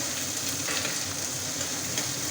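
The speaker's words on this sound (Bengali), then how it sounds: "এরপরে পেঁয়াজ আর কাঁচা লঙ্কা চিড়ে দিয়েছি। এটা একটু ভাজা শেষ হলে রসুন দেবো" Sliced onion and green chili frying in a pan, a steady dense sizzle that holds evenly without pause.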